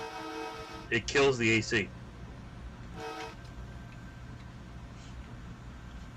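A Long Island Rail Road M3 train horn in Train Sim World sounds one loud, harmonically rich blast of about a second over a steady low engine rumble, with a brief fainter tone later and someone talking over it.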